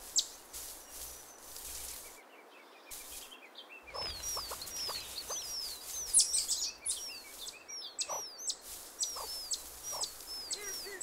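A mother grouse hen calls softly to her brood in the forest, her faint clucks and notes mixed with high thin chirps from the chicks, scattered and irregular over a quiet outdoor background.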